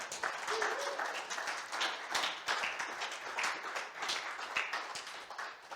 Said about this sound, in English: Another round of applause for Anthony.